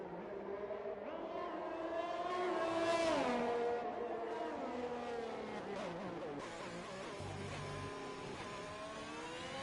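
Simulated Ferrari Formula 1 car engine at the Singapore street circuit in the F1 2021 racing game, a sustained high-pitched whine climbing and falling through gear changes, loud and steady throughout without speech.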